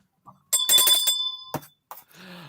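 A bell-ringing sound effect: a short, bright, bicycle-style bell ring amid a few other brief effect noises, close and clear, with no talking.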